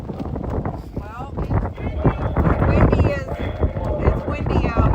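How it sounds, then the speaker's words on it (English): Strong, cold wind blows outdoors at a street vigil outside a Washington DC jail, a loud continuous rumbling buffet on the microphone under someone talking throughout. "it's windy out here. Really windy and kind of cold"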